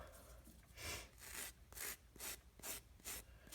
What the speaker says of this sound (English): You can even use a very light wire brush. You just don't want to rub too hard on it though.